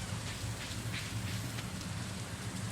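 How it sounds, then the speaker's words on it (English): Steady, soft rainfall of green rain in the Stardew Valley video game, a continuous patter with a low rumbling undertone, with no talk. "strange weather has hit the valley. Green rain."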